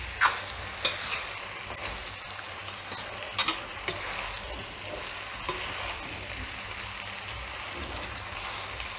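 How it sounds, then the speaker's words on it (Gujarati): Maggi noodles with vegetables are slowly stirred and tossed in a hot pan, a soft scraping and sizzling with intermittent sharp clicks of the spoon against the pan, close and without talk. "બરાબર એકદમ શાકભાજી અને મેગી બધું મિક્સ થઈ જાય એ રીતે ધીરે ધીરે ફેરવવાનું"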